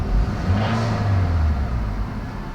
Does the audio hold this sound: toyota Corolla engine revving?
yes